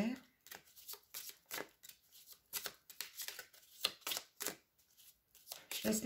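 Tarot cards are shuffled by hand in rapid, riffling bursts of papery flicks and slaps, close and continuous with brief pauses.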